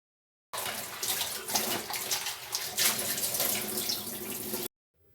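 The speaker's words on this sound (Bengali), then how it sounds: "আমার বাসন মাজা হয়নি তো বাসনও মাজতে হবে" Dishes are washed at a kitchen sink under running tap water, a steady close splashing stream with clinks and shifts in the flow, starting and stopping abruptly.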